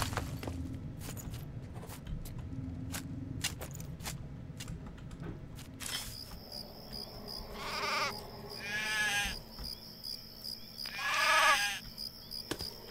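Sheep in the video game Craft The World bleat twice in clear, wavering calls over a soft ambient game background with scattered light clicks.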